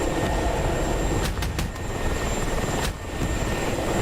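Attack helicopter in a video game PvP battle, a loud continuous rotor and engine roar close by, broken by a few sharp impact cracks.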